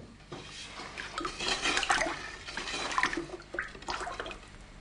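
Raku glaze poured into a biscuit-fired pot and quickly poured back out, a continuous close sloshing and gurgling of liquid that swells and eases over several seconds, with no voices.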